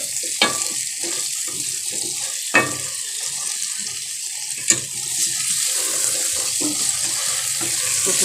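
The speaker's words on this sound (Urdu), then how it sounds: "میں بھون رہی ہوں، تھوڑا کلر آ جائے آلوؤں پہ" Potatoes sizzle and crackle in hot oil in a pot, a steady frying hiss with occasional sharp clicks of a spoon stirring, close and without talk.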